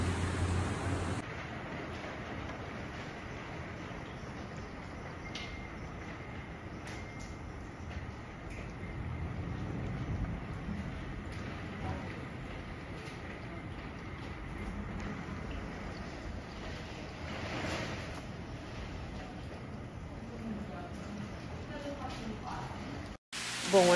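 Steady, dense roar of heavy rainstorm and wind in Alphaville, Brazil, a continuous broadband wash that barely varies for the whole stretch, loud and enveloping.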